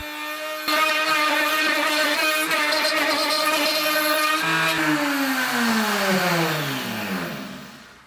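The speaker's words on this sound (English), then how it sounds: "we'll set the router at 1/4 inch, and then from there we'll route out to the hole saw circle" A router cuts a quarter-inch countersink into a wooden tie-down base for a Toyota Tacoma, its motor whining loudly and steadily before winding down and fading at the end.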